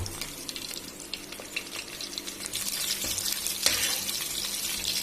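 Chopped ginger and green chilies fry in a pan for broken rice upma, giving a steady close sizzle with light clinks and stirring scrapes, growing slightly louder toward the end, with no talking.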